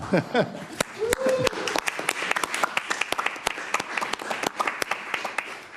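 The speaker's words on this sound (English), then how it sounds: "you are, of course, the first person ever to get applause in this press conference" Scattered applause at a press conference during a European Political Community meeting of world leaders in Budapest, a few sharp claps repeating irregularly in the room with a brief voice near the start.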